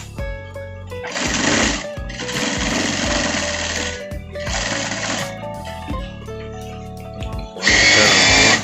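A sewing machine stitches the front pocket of a parka jacket in four rapid mechanical runs separated by short pauses, the last one loudest, with background music throughout.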